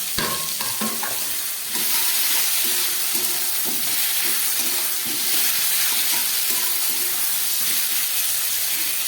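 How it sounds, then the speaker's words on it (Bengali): Pointed gourd goes into a pan where ridge gourd, potato and tomato are already frying, giving a loud, steady sizzle and hiss with stirring clatter at the start, with no voices. "ঝিঙে আলু টমেটো সব ভাজা হয়ে গেছে, এবারে আমি এই দিয়ে দিচ্ছি এই পটলটা"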